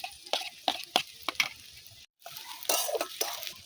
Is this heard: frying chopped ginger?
yes